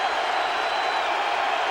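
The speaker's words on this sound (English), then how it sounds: "The crowd picks up the noise level as it's 3rd down and 5." A dense roar from a football stadium crowd at a Colts vs. Bills NFL game on third down, a broad sustained wash of noise holding loud and steady throughout.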